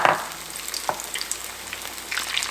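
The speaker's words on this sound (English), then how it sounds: "gently place it in the oil" Battered fish for pub-style fish and chips hits hot oil with a loud crackling burst, then settles into a steady fizzing sizzle with scattered pops and stirring sounds.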